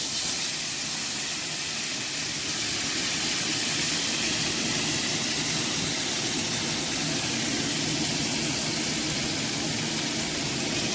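Potato and papaya pieces hit hot oil seasoned with five-spice, setting off a loud, steady, dense hiss of frying that runs unbroken and close, with no voices.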